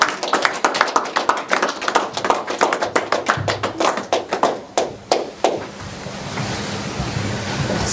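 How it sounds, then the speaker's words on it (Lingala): An audience gives scattered, sharp applause to welcome a guest of honour. The claps come rapidly at first, then thin out and fade, leaving a soft background hiss. "Applaudissez-le."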